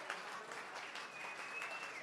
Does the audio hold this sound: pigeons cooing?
no